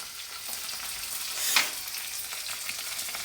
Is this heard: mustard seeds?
yes